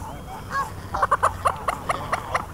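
At a park lake in Curitiba, a common moorhen and a goose squabble, with a quick series of loud, nearby honks and squawks in uneven bursts.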